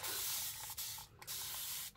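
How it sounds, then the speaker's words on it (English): A spray bottle mists paper bags in several hissing bursts, close and fairly loud, with brief pauses between the sprays. "then we're gonna come through and we're gonna spray this"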